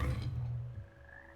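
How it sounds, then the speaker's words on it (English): Teleportation frogs in the Hogwarts Legacy video game letting out a single deep, throaty croak that starts loud and close, then fades, leaving a thin lingering tone. "Those are teleportation frogs."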